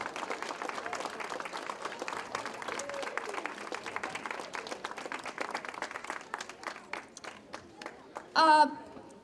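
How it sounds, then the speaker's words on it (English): A crowd at an outdoor mural unveiling applauds children and their parents, steady clapping mixed with voices that thins out toward the end, where a short whistle or squeal cuts through. "A big round of applause to these kids and their parents."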